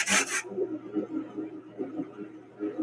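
Fiber is burnished down on a Brother Super Card drum carder, a soft irregular rubbing and brushing close by, starting with a brief loud burst, then low textured scrapes.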